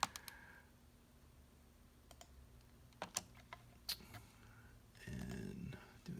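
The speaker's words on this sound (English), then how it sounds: "I'm gonna click here." Sharp computer clicks and taps sound during CAD work on brass spools for an RGT Rock Cruiser, a dozen or so scattered quiet clicks with soft background noise and a brief rustle near the end, no talking.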